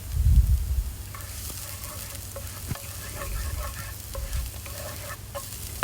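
Garlic hitting hot oil in a pan for a pork and vegetable stir-fry, a soft steady sizzle with a few light utensil taps and scrapes, close by and alone without talk.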